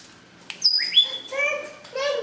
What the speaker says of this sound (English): It's a bird, Daddy.